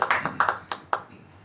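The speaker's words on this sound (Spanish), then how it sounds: "Un aplauso." A few people clap for an honoree at an honours ceremony in Paraguay, sparse, uneven claps close by that thin out within about a second.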